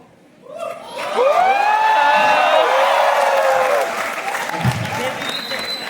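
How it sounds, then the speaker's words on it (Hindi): A university TEDx audience breaks into loud, sustained applause with cheering and whoops as a speaker is welcomed, the crowd noise swelling and then easing slightly. "आपकी तालियां जानवी मैडम के लिए कम है।"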